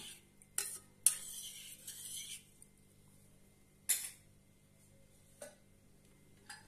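A spoon stirs dal with turmeric and ghee in a metal pot, making a few scattered scrapes and clinks against the pot, quiet and spaced out over near silence.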